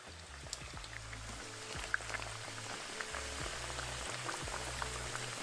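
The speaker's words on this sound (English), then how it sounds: "Place your chimichanga in your frying oil carefully, and we're gonna continue to fry for max 2 minutes" A chimichanga fries in hot oil, a constant quiet sizzle dotted with small pops and crackles, with a low intermittent hum underneath.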